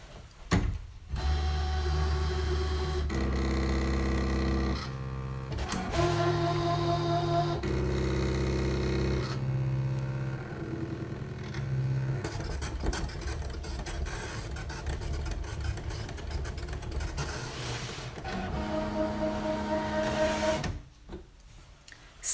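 A ScanNCut cutting machine cuts stamped card images on a mat: a close electric whirring and buzzing of motors that changes pitch in stop-start passes for about twenty seconds, then cuts off abruptly.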